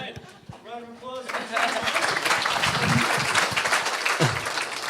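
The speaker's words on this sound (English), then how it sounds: "Round of applause" A club audience at a science talk breaks into applause, a voice briefly heard before dense, steady clapping swells and holds loud and close.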